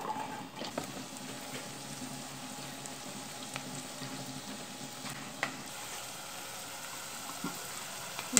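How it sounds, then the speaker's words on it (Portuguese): Onion frying in a pan while cooking bacon and onion farofa, a soft, steady sizzle with faint crackles and a few light clicks, fairly quiet and without talk. "Então vamos fritar primeiro a cebola,"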